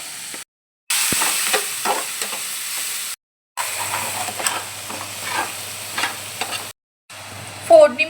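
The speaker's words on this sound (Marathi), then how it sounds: "एक चमचा उडदाची डाळ टाकून घेतलेली आहे आपण फोडणीमध्ये आणि भाजायची आहे आपल्याला तेलामध्ये" Urad dal frying in an oil tempering with turmeric, a close crackling sizzle with scrapes and spoon clinks, broken by several abrupt silent cuts, no voices.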